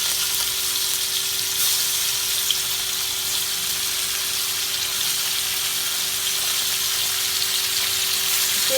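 Mandeli fish coated in masala and tamarind pulp sizzling in a generous amount of hot oil, a steady close crackling hiss that runs unbroken throughout with no voices.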